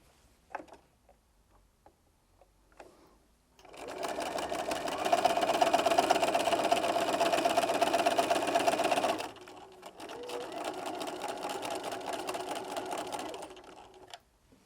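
Sewing machine stitching a quarter-inch quilt seam, a fast steady mechanical whir and rapid needle ticking in two sustained runs with a short pause between, preceded by light handling clicks, close and alone.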